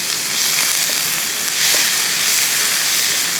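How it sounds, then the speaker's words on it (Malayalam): Finely chopped onions sauté in a hot pan for a Kerala-style breakfast, giving off a steady, loud sizzling hiss that stays even from start to finish, with no voices. "എനിക്കിതെല്ലാം ഒന്ന് വഴറ്റിയെടുക്കണം"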